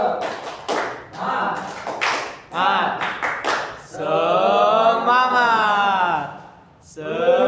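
A first-grade class does a rhythmic clapping chant, with sharp bursts of claps followed by children's voices chanting together, loud and close in a classroom.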